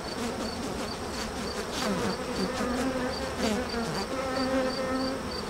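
Irritated honeybees swarming at an open hive, a dense close buzzing drone with wavering pitch and individual bees zipping past.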